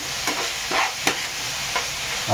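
Tomatoes and onions frying in a pan for Schezwan fried rice, a steady sizzle broken by a few scraping stirs of a spoon, close and fairly loud with no talking.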